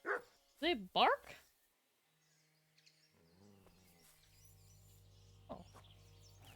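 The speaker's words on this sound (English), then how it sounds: "What are you guys barking at?" Dogs bark in a video game set in medieval Bohemia, a quick run of three or four sharp, close barks, then quiet ambience with low humming tones.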